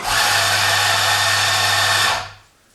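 A Ceado espresso grinder grinds coffee with a steady, loud motor whine and a low hum for about two seconds, then winds down quickly to quiet.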